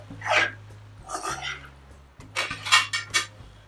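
A spoon scrapes and clinks against a pan while bhindi is stirred with lemon juice, a few irregular bursts of metallic scraping with a low hum beneath and soft talk in between.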